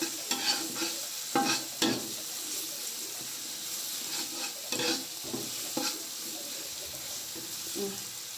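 Lemongrass stirred in a hot frying wok: a spatula scrapes and clatters in irregular bursts over a constant sizzle, fairly close, with no talking.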